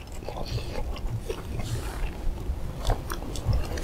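Chewing food at a campsite: close, repeated crunchy bites and mastication at moderate loudness, with steady outdoor background and no talk.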